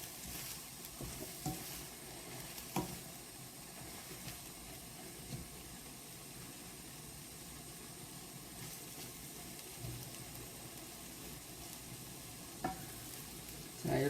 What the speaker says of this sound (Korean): 기름에다 더 볶는다고 생각하시면 돼요.